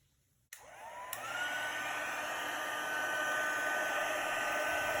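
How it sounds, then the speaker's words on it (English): A handheld craft heat tool blows steadily onto snowfall-accent puff paint spread on a paper hat, switching on with a sharp onset and then holding a loud, even whoosh with a rising whine, no voices. "Next, I'm using my heat tool."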